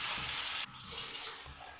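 Grated carrots roasting in ghee for gajar halwa give a loud, steady frying hiss that drops abruptly partway through, leaving a softer sizzle with light stirring scrapes and no voices.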